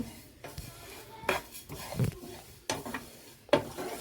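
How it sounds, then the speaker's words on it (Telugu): Sesame seeds dry roasting in a pan after cumin, coriander, curry leaves and dried red chilies, with scraping stirs and light metal clinks of a spoon against the pan in irregular bursts, close and fairly quiet. "ఇప్పుడు నువ్వులు కూడా దోరగా వేపుకుందాం అండి"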